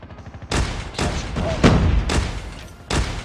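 Grenades and gunfire in the mobile shooter Call of Duty Mobile, several loud, close blasts and bursts arriving in quick succession with short gaps between them.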